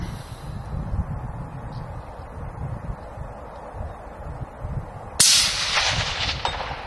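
A single sharp .243 rifle shot at outdoor target practice cracks loudly near the end, its report decaying over a windy, rustling background.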